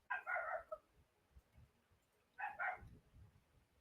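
A pet dog named Mao gives two short bursts of barking a couple of seconds apart, close and moderately loud, with faint low room noise in between.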